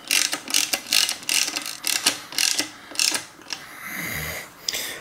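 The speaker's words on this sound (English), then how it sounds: "I'm going to use a ratchet wrench here with a 5 millimeter hex bit on there" A ratchet wrench with a 5 mm hex bit tightens a recessed brake bolt on an older bike frame: close, rhythmic bursts of clicking pawl ratcheting, then a softer scraping turn near the end.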